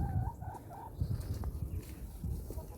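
Chickens cluck in short, repeated bursts inside a coop, fairly close but soft, with soft bird calls and no talking.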